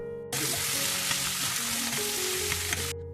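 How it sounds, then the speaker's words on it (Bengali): Onion hits oil left over from frying potatoes and sizzles loudly and steadily throughout, a dense close crackle with faint stirring, the hiss cutting off abruptly near the end, no voices. "প্রথমে আলুটাকে ভেজে নিলাম এরপরে ওই তেলেতেই মাংসর মশলা কষাবার জন্য পেঁয়াজটাকেও দিয়ে দিলাম"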